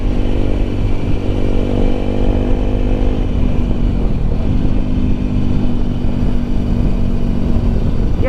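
A Bajaj Pulsar RS 200 motorcycle with its stock exhaust rides through city streets, its engine droning loud and close with a steady hum that shifts pitch slightly as the throttle changes, mixed with road and wind noise.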